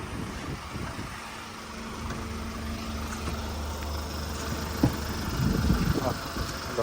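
Engine of a 2019 manual-transmission car idling nearby, a steady low rumble with a faint tonal drone, occasional knocks and a slight swell toward the end.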